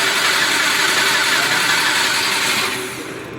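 Subaru car engine running after being cranked, a loud, steady mid-pitched drone close by that holds for about three seconds before easing down slightly.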